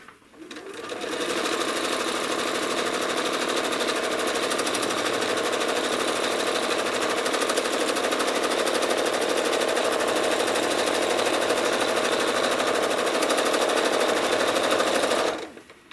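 A home sewing machine runs steadily while machine-quilting a small cherry-bowl quilt, a close, continuous rapid stitching rattle that starts up, holds an even speed for about fourteen seconds, then stops, with no talking.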